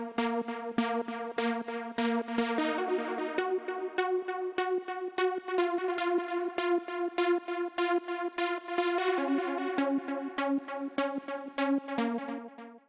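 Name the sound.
synth pluck made in Serum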